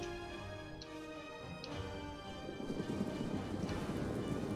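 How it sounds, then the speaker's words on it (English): Light horse cavalry in Total War: Rome II gallop across a battlefield, a soft, continuous drumming of hooves that thickens and grows louder toward the end, with no talking. "Galatia's 2 units of light horse over there intercepted."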